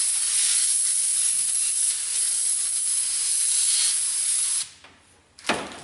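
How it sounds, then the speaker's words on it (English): Brake parts cleaner sprays in a long, steady, close hiss into a stripped head bolt hole on a Toyota RAV4 2AZ-FE engine, then cuts off, followed by a brief second burst. "clean out the hole with some brake parts cleaner"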